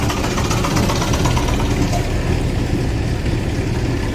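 A Prairie gas tractor engine runs steadily at a steam threshers parade reunion in Rollag, Minnesota, a continuous low rumbling drone with no pauses, fairly loud and close, with no talk over it.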